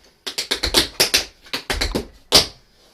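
Sharp tap shoe steps from Ruby Keeler's 42nd Street tap routine land in quick clusters of crisp, close strikes with short pauses between them, finishing on one loud accented stomp.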